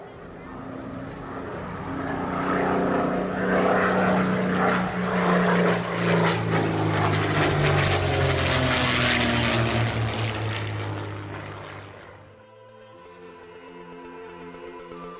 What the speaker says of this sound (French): je vous mets un enregistrement de Yak 3 passant à basse altitude, enregistré sur des meetings aériens